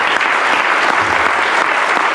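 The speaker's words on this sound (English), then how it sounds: "I'd like to give another round of applause for all of them" An audience gives a loud, continuous round of applause for a music center team, many hands clapping together in a dense steady wash for a couple of seconds.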